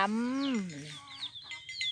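A chicken on a farm gives a drawn-out, rising-then-falling squawk followed by a few quicker, higher clucks, close and clear with a faint background murmur.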